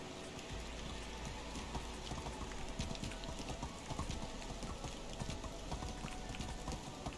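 Donkey hooves clip-clop steadily during a ride in the medieval survival game Medieval Dynasty, a continuous, moderately quiet trot over a dense rain-like hiss of ambient noise.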